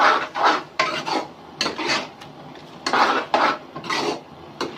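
A utensil scrapes and stirs dal mash with tomato, onion and chillies in a pan over a high flame, repeated rhythmic rasping strokes close by with no talk.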